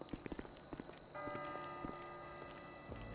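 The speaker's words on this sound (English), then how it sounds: "that was the bell striking midnight" A deep bell in the GTA V roleplay game strikes midnight, ringing with sustained tones behind earlier clip-clop-like footsteps. The bell is moderately loud and carries on for a couple of seconds.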